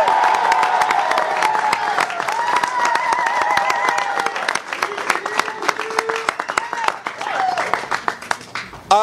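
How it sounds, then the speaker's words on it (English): A crowd claps and cheers for the Sacramento fans, sustained applause with voices audible through it, the clapping growing more scattered in the final seconds. "let's give a round of applause for the Sacramento fans."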